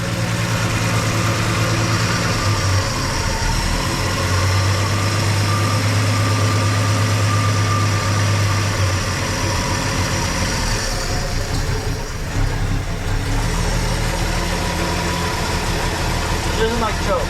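A Plymouth Valiant engine, running again after sitting for 18 years, idles steadily and loud throughout, with a low rumbling drone, a fan whirring, and voices talking over it.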